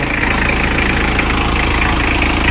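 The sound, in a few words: engine running idle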